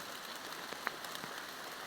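Steady rain falls on a mountain hike to Gunung Binaiya, a dense even patter with a few louder drops striking nearby, no voices.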